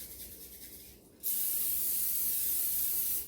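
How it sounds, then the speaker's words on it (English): Cooking spray hisses from a can into a bundt pan in one steady burst of about two seconds, close and loud, after a moment of quiet room noise. "I'm going to spray my pan."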